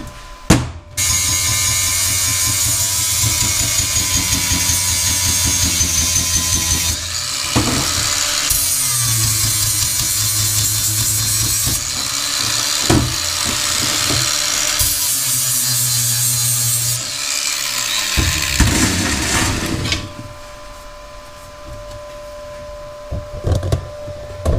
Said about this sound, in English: let's give that a butt grind down